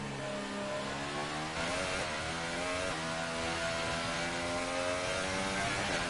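A Formula 1 car's engine revs hard in the F1 2018 racing game, a continuous high-pitched whine climbing and shifting in pitch, loud and close with no talking.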